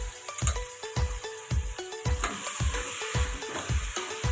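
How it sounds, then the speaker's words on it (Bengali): Pav bhaji cooks in a pan with pav bhaji masala, hissing and sizzling steadily while rhythmic scraping strokes of a spoon stir it about twice per second, close and clear. "এটা আমি মশলা দিয়ে পাওয়া ভাজি মশলা দিয়ে এটা নাড়াচাড়া করছি"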